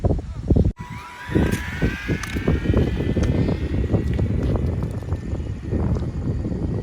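A Chevrolet Corvette RC car races past at speed, its electric motor whining upward in pitch over rough rolling and wind noise, while people talk nearby.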